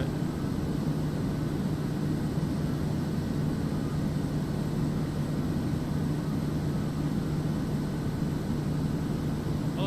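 A Kodiak single-engine turboprop drones steadily in cruise in Microsoft Flight Simulator 2024, a constant broadband engine and propeller hum with a faint steady tone, unbroken and fairly loud throughout.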